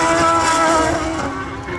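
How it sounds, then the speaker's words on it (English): Racing car engines run at Silverstone during GP Masters qualifying, giving a loud, continuous, droning engine roar with steady tonal harmonics and no pauses. "There are 12 engines running."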